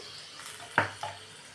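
Hot tempering of garlic cloves and red chilli in oil poured onto spinach curry for palak paneer, giving a sharp sudden sizzle burst followed by a second smaller hiss, fading quickly into quiet.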